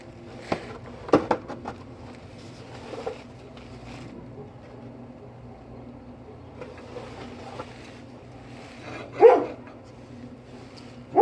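A dog barks a few times, sharp separate bursts near the start and near the end, over a quiet background in a home garage where a 1993 Lincoln Town Car front shock and spring are being removed.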